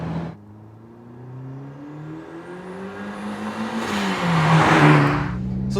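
A 1995 Mazda Miata M Edition with a big-turbo 2-liter stroker BP engine pulls from a low drone into a rising rev, whining louder and higher as the turbo spools, then lifts off briefly.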